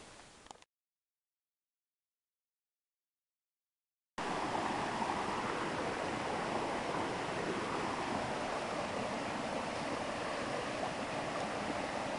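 A mountain stream flowing, a steady broadband rush of water heard briefly at the start and then continuously after a silent gap, even and fairly close with no talking.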